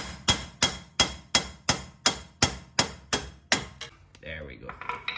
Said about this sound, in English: I'm gonna be hammering on it so it will push back